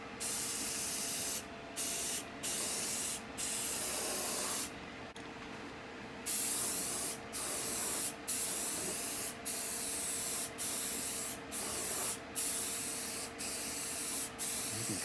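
Rust-proof coating sprays from a can onto an old rusty grill in repeated long, loud hissing bursts, each stopped by a short gap, in an even rhythm of about a dozen pulses with no talking.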